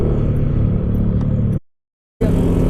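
A noisy vehicle exhaust rumbles loud and close at De Lawu Park in Tawangmangu, a steady roar that cuts out abruptly for about half a second before returning just as strong.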